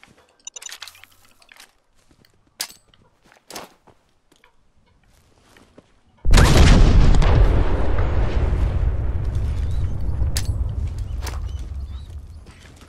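Grenade blast in the Fallout 4 video game: a few scattered clicks and thumps, then a sudden loud explosion with a long rumbling roar that slowly fades over several seconds.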